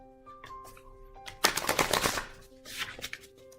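A deck of oracle cards is shuffled by hand, a close, crisp flurry of riffling and slapping card edges in two bursts, with soft background tones beneath.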